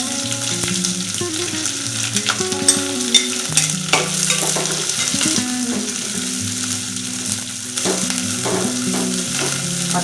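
Sliced onion sautés with curry leaves in a pan for tomato rice, a lively close sizzle broken by frequent scraping stirs, with music running underneath and no one speaking.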